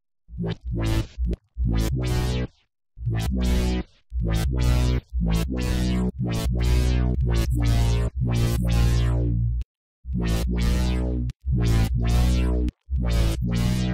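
Synth bass made in Serum, a low, sustained tone sliding smoothly with portamento from one pitch to the next in short phrases separated by brief gaps, loud and close.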